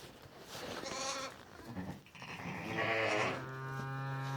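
Sheep and lambs in a lambing barn bleat back and forth in several overlapping, wavering calls, some hoarse and some higher and sustained, at moderate distance with faint background noise.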